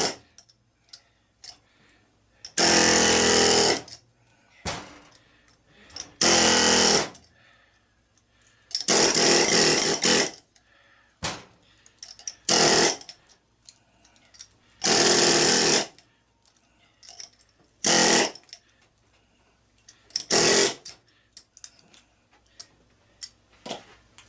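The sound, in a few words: air chisel chiselling copper windings out of scrap motors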